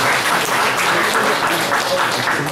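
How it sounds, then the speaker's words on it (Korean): Dense, loud applause fills a Bareun Party leadership candidate debate as the audience claps steadily for a candidate, close and continuous throughout with no voices over it. "정문원 후보 박수 부탁드리겠습니다"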